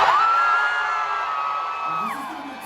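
A single sustained whoop from a crowd at a live concert at The Ranch Concert Hall in Fort Myers, holding a steady pitch for about two seconds before dropping off, loud and close.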